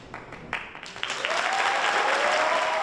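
Audience applause at a teachers' award ceremony, starting with scattered claps that quickly swell into dense, sustained clapping from a large crowd, loud and close, with a faint voice rising briefly beneath it.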